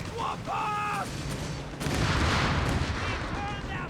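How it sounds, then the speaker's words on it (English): Aircraft strafing run gunfire in the video game Company of Heroes 3, a dense burst of rapid shots and booming impacts swelling midway through, with faint whistling effects and a commentator talking over it. "Strafing run here against the assault years."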